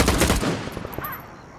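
Gunfire from an open gunfight in the shooter Stalker 2: a quick burst of loud, close rapid shots that fades into a short echoing tail.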